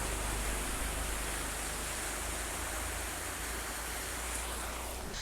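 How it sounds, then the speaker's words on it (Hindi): Waterfall at a foggy hill station in Lavasa, Maharashtra, a steady, loud, broadband rushing roar with no breaks and no voices. "और इस तरफ में ये पानी का झरना है।"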